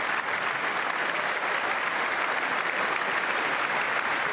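Sustained audience applause at the State of the Union, a dense, steady wash of many hands clapping throughout, fairly loud and with no voices rising above it.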